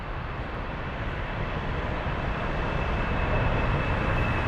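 A Lufthansa Boeing 747-400 at Frankfurt airport gives a steady, broad jet roar that holds at an even loudness throughout, with no voices.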